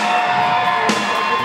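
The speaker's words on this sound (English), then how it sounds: "Make some noise out there, crowd." Crowd at an NPC Desert Storm bodybuilding competition cheering and whooping during posing, a steady dense roar of voices held throughout with a brief louder swell midway.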